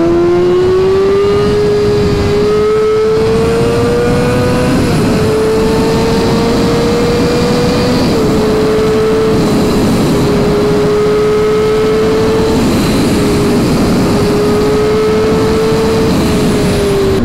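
A Kawasaki ZX-6R 636 sport bike engine pulls hard at speed, a loud continuous high-pitched wail rising through gears with brief dips at shifts, heavy wind roar underneath.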